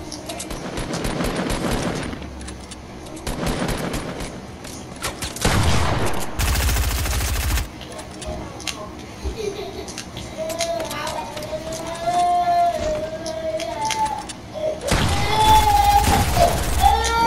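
Gunfire in the Fortnite battle royale video game, with bursts of rapid automatic shots and louder booming volleys, loud and dense, broken by short gaps and with game sound effects in between.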